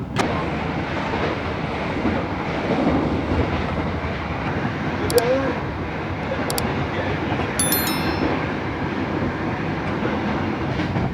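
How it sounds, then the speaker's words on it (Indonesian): A train rumbles steadily along the rails with a continuous low roar, faint clacking and a few brief high squeals from the wheels, as a special nostalgia excursion train departs Jatinegara station in Indonesia. "kereta KLB Nostalgia Culinary sudah diberangkatkan dari stasiun Jatinegara"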